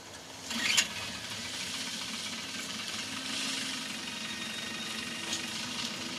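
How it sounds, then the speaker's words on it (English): A vehicle engine starts up in the Bad Company 2 campaign on PS3, heard as a steady hissing, rumbling wash with a brief sharp burst near the start, at moderate volume throughout. "Start the engine."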